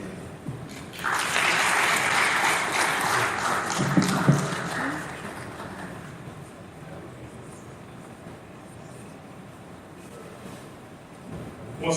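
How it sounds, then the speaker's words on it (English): A conference audience at a soya coalition event applauds a speaker on the poultry industry with a dense, loud burst of clapping that swells quickly, holds for a few seconds, then fades away. "Once again, a round of applause for Dr. Ayola Ogunto"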